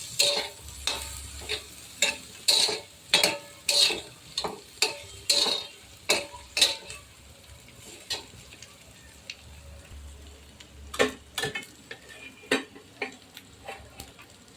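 Bombay duck (bombil) frying in oil in a pan over a full-flame gas burner, steady sizzle under a regular run of loud scraping stirs and spatula knocks against the pan, close by, with a few brief murmurs.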